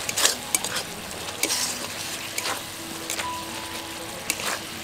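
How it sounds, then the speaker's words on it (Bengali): Masala with chopped coriander leaves is stirred in a sizzling pan for aloo sabzi. A soft frying hiss runs under repeated scraping and clinking strokes of a spatula against the pan, and no one speaks. "ধনে পাতা কুচি দিয়ে মশলার সাথে আরও একবার নেড়ে নেব"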